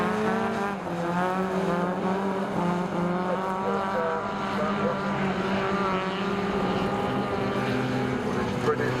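Autograss race cars roar around a dirt track at Scunthorpe during a class 11 final, a continuous loud engine drone with shifting pitch, while an announcer talks over it.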